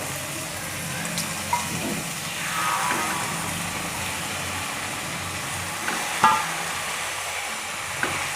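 Washed hadga flowers are stirred into a vegetable frying in oil, with a soft continuous sizzle and occasional scraping stirs of the pan close by.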